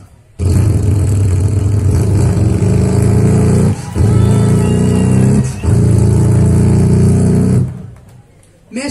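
A voice imitates an American Harley-Davidson chopper motorcycle. The result is a loud, close, continuous low rumbling idle held steadily for several seconds, with two brief breaths between the bursts.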